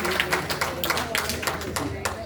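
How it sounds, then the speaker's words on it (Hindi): Steady clapping from a crowd, dense and continuous with soft murmuring voices mixed in, filling the whole stretch at a moderate level. "जोरदार तालियां।"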